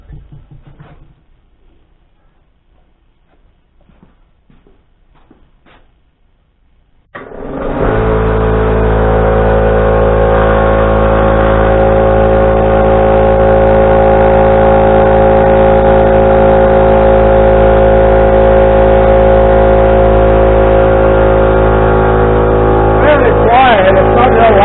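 A Husky air compressor under repair kicks on after a quiet stretch of faint handling noise, then runs as a loud, steady motor drone with a strong low hum, continuing to the end.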